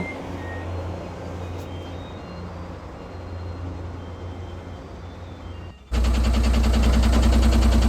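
A lorry reverses at a wheel alignment workshop: a low engine rumble, then a loud, steady run of repeating reverse warning beeps starts abruptly and continues to the end.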